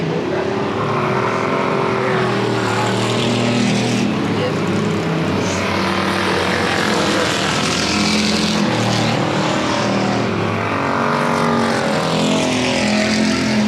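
Pure stock and bomber race cars circling South Texas Speedway in a feature race, a loud continuous multi-engine roar with layered engine tones rising and falling as cars pass close by.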